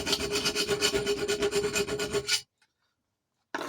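A round file rasping inside a hole in knife steel, fast rhythmic back-and-forth strokes, loud and close for over two seconds, then a second of silence before the filing starts again.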